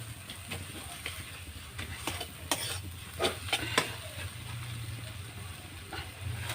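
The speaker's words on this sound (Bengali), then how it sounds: "একটু মশলাটাকে কষে নিই।" Spice paste for Bengali-style khichuri is stir-fried in a pan, making a soft continuous sizzle with several sharp scrapes and clicks from the spoon.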